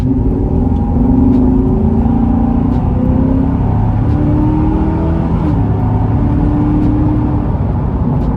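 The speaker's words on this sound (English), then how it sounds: "the Corvettes in particular actually sound really nice too. Like, they got a great exhaust." Chevrolet Corvette C7 engine with a throaty exhaust note, a steady loud drone with rising and falling rev swells throughout, no talking.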